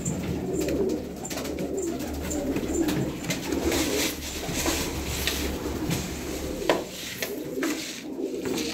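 Tumbler pigeons cooing in a continuous low, murmuring chorus, close by, with occasional wing flutters and light knocks in the background.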